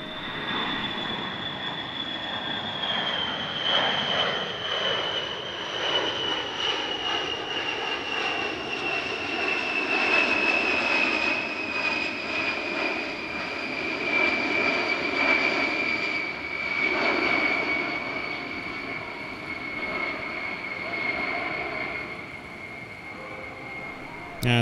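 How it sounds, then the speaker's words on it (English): A Boeing B-52 heavy bomber roars overhead at the Barksdale airshow, a loud sustained engine drone with a slowly falling whine as it passes and recedes, steady throughout with little else heard. "As the B-52 disappears into what was a rather low cloud base"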